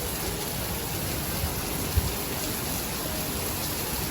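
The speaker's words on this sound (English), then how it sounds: "it's absolutely pissing down, like rain, like I've never even seen it before." Torrential tropical downpour in Singapore, a steady, dense hiss of heavy rain pouring without letup, close and enveloping, with no voices over it.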